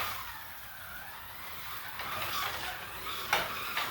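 An H and R 1/24 scale slot car runs laps on a track, giving a steady, fairly quiet motor whir with a faint hiss that swells a little as it passes closer.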